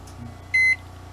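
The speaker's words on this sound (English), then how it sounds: "we wait to see if and when the microwave turns on" An off-grid microwave oven gives a single short, clear electronic beep over a low background hum.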